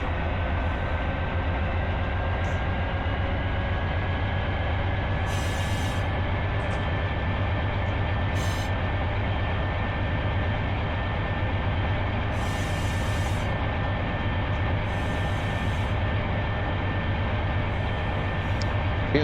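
A CSX Dash 9 diesel locomotive throttles up in the Run 8 Train Simulator game, producing a steady, loud engine drone and rolling rail rumble with a faint tonal whine and occasional brief hissing bursts.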